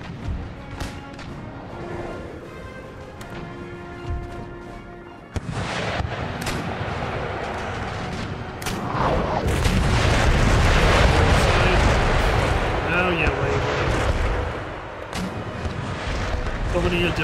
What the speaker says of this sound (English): Broadside into the hull.